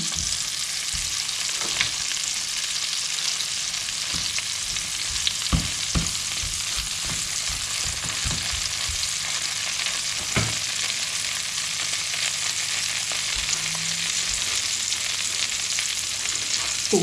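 Large pieces of eggplant and other vegetables fry in butter with a steady, close sizzle, punctuated by occasional utensil taps and stirring knocks.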